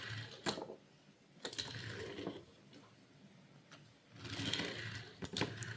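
A Hot Wheels Shelby GT500 toy car rolls with quiet, rapid ticking and rattling wheel noise in short bursts separated by brief sharp clicks.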